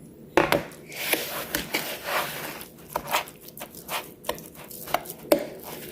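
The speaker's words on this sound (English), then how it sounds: "Now we're going to mix it all up." A fork mashes and mixes sweet potato and mango in a bowl, giving a run of close, uneven scraping and tapping strokes with sharper clicks against the bowl and no talk.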